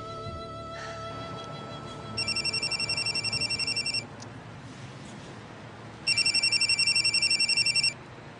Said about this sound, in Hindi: ये सुबह से फोन बजे जा रहा था, जुर जुर जुर जुर जुर, तो इसलिए मैंने फोन बंद कर दिया।